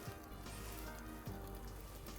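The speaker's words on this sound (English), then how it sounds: "And just let it render in this frying pan." Excess pork fat from pork belly rendering in a frying pan: a quiet, steady crackling sizzle with scattered small pops, faint and continuous for a couple of seconds with no talking.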